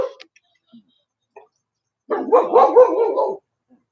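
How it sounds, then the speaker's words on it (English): A dog gives one sustained burst of barking lasting over a second, loud and close, after a few faint scattered sounds. "Dog."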